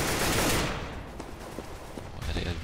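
Rapid gunfire rings out in a Counter-Strike match on de_mirage: a loud burst of shots up front that fades, then a few sharper single cracks with game ambience underneath.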